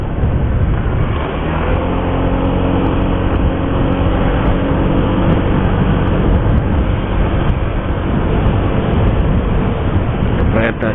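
A train passes near a road in Mustikajaya, Bekasi, Indonesia, producing a loud, steady rumbling roar that fills the whole stretch without letting up, with some faint traffic mixed in.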